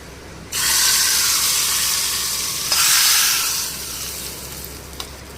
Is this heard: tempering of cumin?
yes